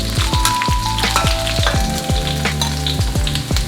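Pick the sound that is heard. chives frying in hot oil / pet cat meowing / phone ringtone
chives frying in hot oil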